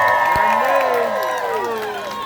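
Audience at an outdoor polka fireworks weekend clapping and cheering, a dense burst of crowd noise with whoops, holding fairly steady then easing slightly.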